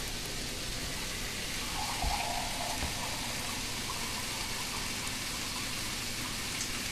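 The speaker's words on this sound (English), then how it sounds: "So I'm gonna pour about 2 cups of water in here." About two cups of water poured into a cooking pan, a soft continuous splashing gush that stays fairly quiet and even throughout, with no talk.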